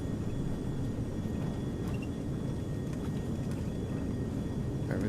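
A Carenado Premier IA business jet climbs out of Philadelphia Northeast Airport at full throttle in a flight simulator, a steady, dense engine roar at an even level throughout.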